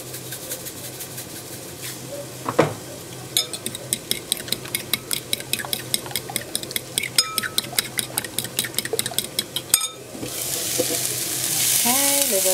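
Broccoli and asparagus sizzle in a frying pan. The sizzle is steady, with repeated sharp ticks and scrapes as a utensil stirs them. The frying swells louder near the end.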